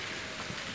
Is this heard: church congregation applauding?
no